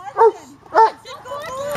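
Two sharp, close dog barks in quick succession, followed by a higher whining yip.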